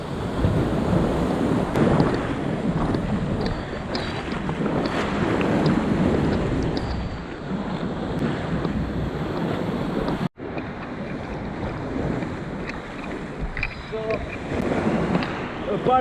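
Ocean waves wash ashore at a beach in Ksamil, Albania, a steady rushing surf heavily buffeted by wind gusting across the microphone.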